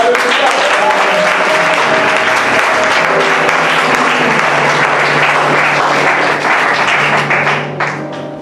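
A church congregation applauds loudly and continuously, a dense roar of many hands clapping close by that holds steady for several seconds, then tapers off near the end.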